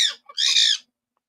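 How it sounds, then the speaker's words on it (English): A pet bird squawks loudly indoors in a room, two harsh close calls in quick succession, then silence. "I have a bird in my room"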